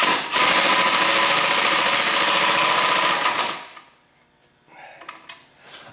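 An impact driver with an 11 mm socket tightens a bolt on a Kawasaki Bayou 300 ATV, giving a loud, close, rapid hammering buzz for about three seconds, then stopping, followed by quiet handling noises.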